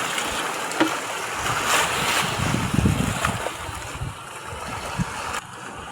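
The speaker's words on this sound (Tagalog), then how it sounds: "Lakas ng alon." Strong waves wash and churn steadily around a boat on open water, with wind noise, a broad rushing roar rising and falling, and occasional louder splashes against the hull.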